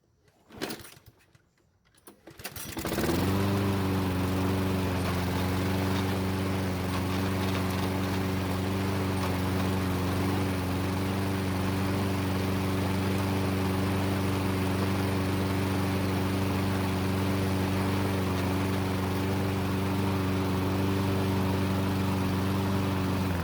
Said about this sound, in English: start the engine and test out if the self-propel is working like it's supposed to